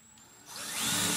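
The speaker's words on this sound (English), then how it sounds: "first up is to drill a hole more or less at right angles" A power drill starts up and whines, rising in pitch and loudness over about a second, with a faint tonal hum before it spins up, drilling a hole in forest-sheoak wood for a turned bowl.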